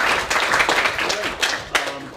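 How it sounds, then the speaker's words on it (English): After a team presentation to a panel, the audience gives a brief round of hand claps, with a few sharp, scattered claps and a murmur of voices underneath. "a quick round of applause."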